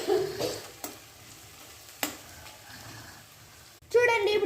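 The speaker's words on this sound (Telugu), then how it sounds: "ఇప్పుడు దీని ఆనియన్స్ లైట్ పింక్ కలర్లోకి వచ్చేంత వరకు కలుపుతూనే ఉండాలి." Onions frying in a pan and stirred until light pink, a soft sizzle under a few sharp scrapes of the spoon against the pan and a louder sizzle burst at the end.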